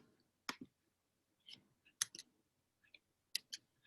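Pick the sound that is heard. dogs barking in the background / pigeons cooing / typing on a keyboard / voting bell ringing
typing on a keyboard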